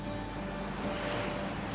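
Ocean surf washes steadily along a coastline in elk country, a continuous broadband roar with wind noise on the microphone and no voices.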